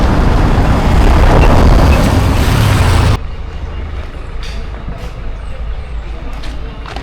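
Heavy trucks rumble loudly past at close range on a roadway beside a catfish farm, a dense broadband roar that drops sharply to a quieter traffic hum with a few faint clicks.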